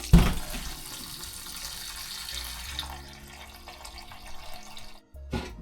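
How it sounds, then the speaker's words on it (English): Cold tap water runs steadily into a sink while a bitter melon is washed under it, a continuous hiss with splashing changes as the melon moves, cutting off briefly near the end before resuming. "Now I'm going to wash this one with cold water."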